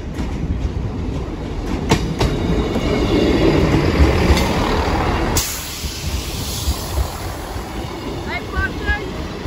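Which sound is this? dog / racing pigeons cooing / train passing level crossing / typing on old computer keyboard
train passing level crossing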